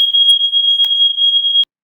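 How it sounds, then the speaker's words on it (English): A home smoke alarm shrills in a steady, piercing high tone for about a second and a half, close and loud, then cuts off abruptly. "my alarm started going off"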